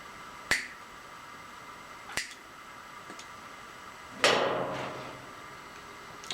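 Sharp cutting snaps as a fitting is cut off the end of an acetylene torch hose, three crisp isolated clicks followed by a longer crunching cut, close and moderately loud with no talk.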